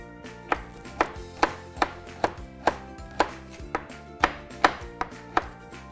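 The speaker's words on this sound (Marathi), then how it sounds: "हे डार्क चॉकलेट जे आहे त्याचे पण आपण तुकडे करून घेऊया" A knife chops dark chocolate into small pieces on a cutting board, about a dozen sharp, evenly spaced thuds in a steady rhythm, close and clear with no voices.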